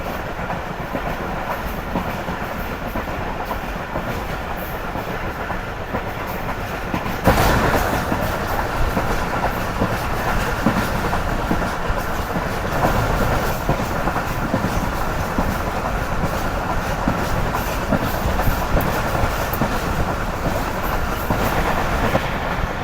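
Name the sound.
Karakoram Express train gaining speed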